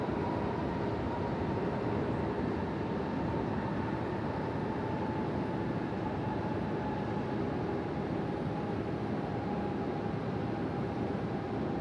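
A Cathay Pacific jet on its night landing roll at Sydney Airport, heard as a steady, broad roar with a faint thin whine running through it, even and unbroken, with no talk.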